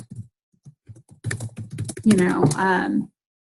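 Text typed on a computer keyboard: sparse, soft key taps at first, then a denser flurry of clicks, with a voice rising over the final second.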